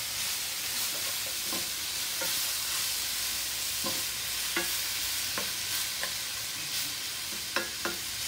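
Stir-frying in a wok, a dense continuous sizzle with regular scraping strokes of the spatula every second or so, close and steady, no voices.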